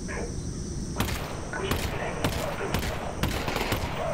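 Gunfire at an enemy in the VR game Half-Life: Alyx: a string of sharp shots at an irregular pace, several spaced bursts standing out over steady insect-like background ambience.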